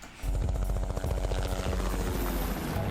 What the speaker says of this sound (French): L'arrivée de ce mystérieux hélicoptère provoque chez Lara une réelle angoisse